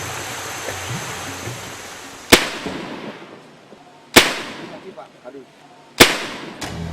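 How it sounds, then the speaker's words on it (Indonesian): Three loud, sharp blasts from muzzle-loading guns fired as a salute salvo ring out a couple of seconds apart, each followed by a brief echoing decay over faint outdoor ambience. "Bedil atau senjata lantak ditembakkan layaknya tembakan salvo sebagai tanda persahabatan dan perdamaian"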